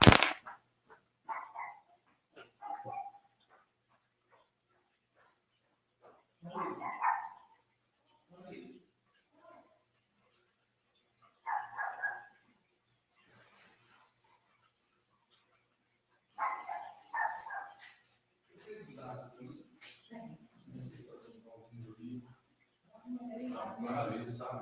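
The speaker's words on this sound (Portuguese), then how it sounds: "eu vou ter que prender o cachorrinho aqui" A small dog barks in scattered bursts across a quiet indoor space, moderately close, with pauses between the outbursts and a louder cluster of yaps near the end.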